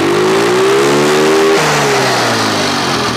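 A Yamaha Mio scooter with a freshly repaired carburetor revs up steadily from idle, its engine note climbing smoothly and then dropping back, loud and close, with no talk over it.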